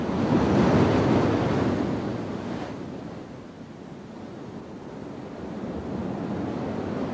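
Pacific ocean surf pounds granite cliffs and offshore rock pinnacles on the California coast, a steady loud roar of breaking waves with a strong swell at the start and wind noise throughout.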